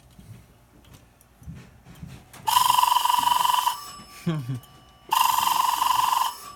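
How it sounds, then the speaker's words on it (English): A telephone ringing signal, a 1000 Hz tone modulated at 20 Hz, sounds as two loud, buzzy ring bursts of about a second each, with someone speaking quietly before and between them. "So now I'm ringing 1000 hertz modulated at 20."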